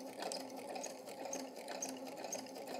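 A sewing machine stitching fabric around curves, a steady, fast mechanical whirring and ticking running continuously at close range.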